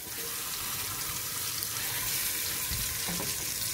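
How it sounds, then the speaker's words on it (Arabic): Chicken frying in hot oil, a steady loud hiss and crackle filling the whole stretch, close up with no voices. "نحط الدجاج تاعنا يتقلى"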